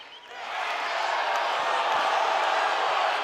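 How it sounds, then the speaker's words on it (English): Crowd at a college baseball game between Texas and UC Santa Barbara surges into a broad, steady roar of cheering after a quiet first moment, sustained and fairly loud throughout. "Crowd jumps behind Cozart for a moment."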